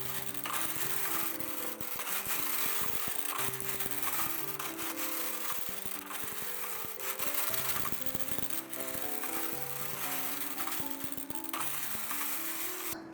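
A Brother hand knitting machine works up a reversible knit hat, its carriage sliding back and forth in a continuous rubbing, clattering stream with irregular mechanical ticks, close and moderately loud.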